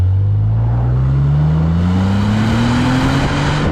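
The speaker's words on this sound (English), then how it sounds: "Oh yeah, this engine is awesome." A topaz blue BMW Z3 with a 3.0 litre engine revs up, one loud close rising drone that climbs steadily in pitch over several seconds with no speech.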